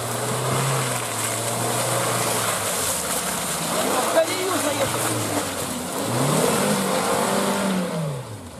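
A Suzuki Jimny pulls away and accelerates, its engine note climbing steadily and revving again near the end, close and moderately loud, with people talking inside.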